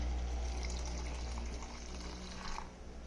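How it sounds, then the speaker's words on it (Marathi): Milk poured into a juice mixture for a homemade drink, a steady liquid gush and trickle at close range over a low hum, with no voices. "मला पाहिजे तेवढं आता मी दूध ओतते"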